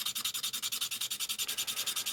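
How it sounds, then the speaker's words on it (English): A file rasps back and forth across a metal key blank being shaped to fit a lock, giving a fast, even series of about twenty-five close scraping strokes with a steady rhythm and no speech. "after a number of minutes of carefully filing this back, no need to rush, just a little bit at a time"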